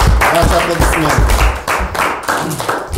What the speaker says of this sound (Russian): Каждый гроссмейстер, ваши аплодисменты.